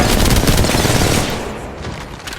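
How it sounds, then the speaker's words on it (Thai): Enemy gunfire in the mobile shooter Apex Legends Mobile: rapid overlapping automatic bursts, loud and close for about a second before thinning into quieter, more distant shots. "ไอ้หลังยิงว่ะ"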